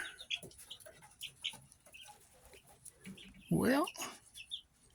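Baby chicks peep and chirp in short scattered calls near the listener, joined by a sudden louder squawking burst partway through, with a little talking in the background.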